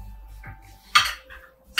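Fettuccine Alfredo served onto a plate: a few clinks and scrapes of utensil against pot and dish, one sharper clatter mid-way and another at the end, close by and fairly quiet.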